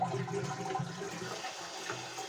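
A toilet cistern being drained to lower its water level while it refills, heard as a steady, close rush of flowing water that stays fairly constant throughout.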